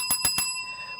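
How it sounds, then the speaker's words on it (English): Sin City bell marking a two-minute warning at a live event: three quick, bright metallic rings in even succession, with the last ring's tone decaying into quiet room noise. "we just heard the Sin City bell"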